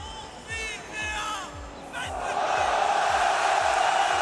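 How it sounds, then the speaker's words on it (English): At a Rocket League World Championship esports event, a large home crowd in the arena swells into loud, sustained cheering and chanting to rally their player, with rhythmic thumping underneath and a few raised voices rising out of the roar. "Home crowd doing everything they can in their power to rally their man"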